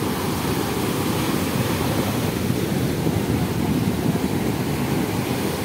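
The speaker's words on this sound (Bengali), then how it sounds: "এখান থেকে ঢেউটা অনেকটা সামনে।" Ocean surf breaking at the shore, a loud, unbroken roar of waves close by, steady throughout with some wind buffeting.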